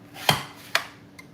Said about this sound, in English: We're gonna get all of the pears sliced